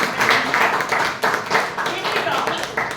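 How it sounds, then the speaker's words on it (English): Audience applause for a Toastmasters club meeting, a dense round of clapping that surges and eases in waves, loud and close, with voices faintly mixed underneath. "Welcome Toastmaster Kosha with a large round, big round of applause"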